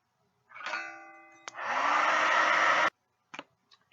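Hair dryer switched on with a short whirring start, then a steady loud blowing roar for over a second before it cuts off, followed by a few faint clicks.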